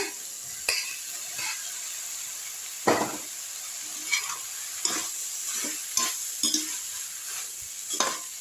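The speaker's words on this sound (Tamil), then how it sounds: "நான் வந்து சாதம் போட்டு கிண்டுறேங்க." Rice mixed with manathakkali spinach greens is stirred in a pan, a soft continuous hiss with irregular scraping strokes of the spoon against the pan, close and steady with no talking.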